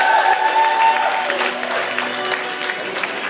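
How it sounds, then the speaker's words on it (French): Audience applause at an improv match between the MIM and Lézards Scéniques troupes, as players are introduced; steady dense clapping fills the whole stretch with a faint voice or tone over it. "Allez, on applaudit."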